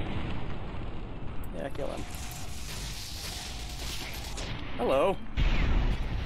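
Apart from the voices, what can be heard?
explosions from plasma weapons in the video game Fallout: New Vegas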